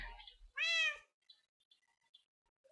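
A single clear cat meow, close and fairly loud, with a rising-falling tone, followed by quiet with faint small noises.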